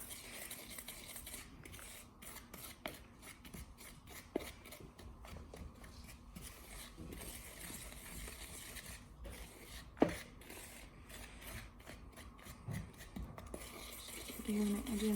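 Steady gritty scraping and rubbing as bath bomb mixture is stirred and mixed in a bowl, continuous close-up scratching with occasional light clinks, no talking.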